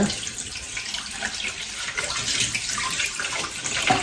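Steady splashing of water poured continuously over air plants, a broad hiss with small trickling bursts throughout, close by with no voices.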